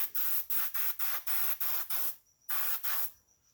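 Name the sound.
spray painting a model Freightliner dump truck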